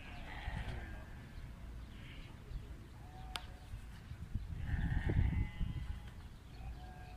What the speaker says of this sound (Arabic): من الحري خرفان والخال، أعمارهم تقريبا من أربع شهور